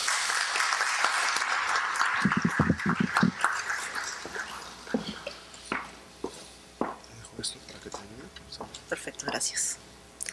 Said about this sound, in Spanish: La recibimos con fuertes palmas.